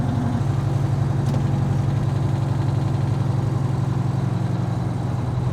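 A 1972 Peterbilt truck engine runs steadily with a deep, even low rumble and a fast, regular pulse throughout, loud and close, with no talk over it.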